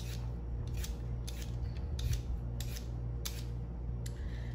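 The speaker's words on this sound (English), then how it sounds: "peel all of the weird bits off of my carrot and then turn it around to peel away from myself again" Vegetable peeler scraping along a carrot, a series of about seven short rasping strokes at a steady rhythm, close and fairly quiet over a low background hum.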